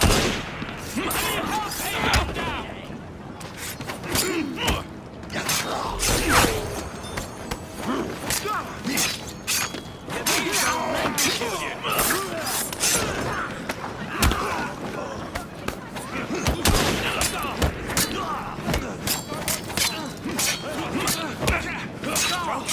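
Gunfire in the Assassin's Creed Syndicate video game, with loud, dense bursts of shots crackling almost without pause while game voices speak over the racket.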